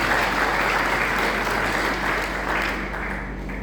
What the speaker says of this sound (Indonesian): Mari kita beri aplaus semua.